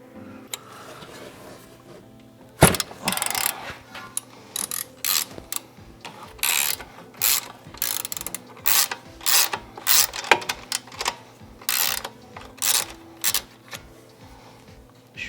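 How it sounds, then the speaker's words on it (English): A ratchet wrench works a Chevy Cruze strut nut held with a T40 Torx bit, clicking in quick bursts of repeated close, loud ratcheting strokes with short pauses between them. "So to get this off, you're gonna loosen the nut and basically tighten the Torx piece."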